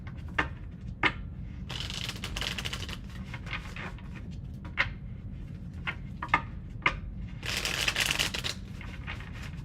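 Tarot cards are riffled and shuffled close up in several quick bursts, with crisp snapping flicks between them and a low rumble underneath.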